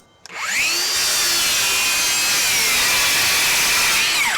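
A DeWalt Flexvolt advantage circular saw running on a 20 volt battery cuts through MDF. It spins up sharply and then holds a loud, steady, high whine for about four seconds before winding down, with no voices.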